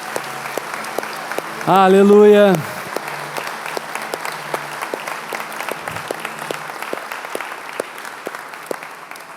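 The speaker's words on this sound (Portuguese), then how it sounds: "Você pode dar uma salva de palmas a Jesus." A church congregation claps steadily through the whole stretch, a dense, even patter of many hands, while a voice near the start briefly calls out over it.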